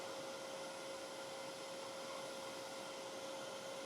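A wood lathe spins a petrified oak bowl at high speed, giving a steady, unbroken whirring drone with a constant hum running through it from start to finish, with no talking.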